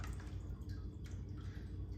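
Water trickles and drips from a fish acclimation drip line as it drains out, a steady close, soft liquid sound with small gurgles and no talking.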